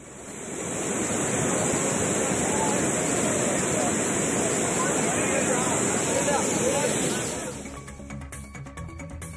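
Kumbakkarai waterfall with tourists bathing roars as a dense, steady rush of falling water, loud and sustained before fading near the end into quieter, clicky noise.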